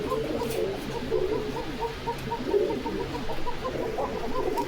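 Pigeons cooing at a pigeon farm, soft repeated low coos in a steady murmuring rhythm from several birds, moderately close and continuous throughout.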